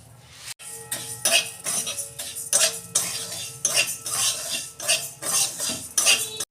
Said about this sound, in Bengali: আমি ডাল কড়াই দিয়ে একটু ডালটাকে হালকা করে একটু নেড়ে নেব